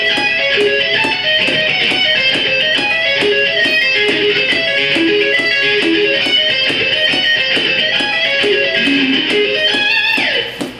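Distorted electric guitar runs arpeggios in even triplets at a slow tempo, with a faint ticking click keeping time beneath the steady, loud picked notes.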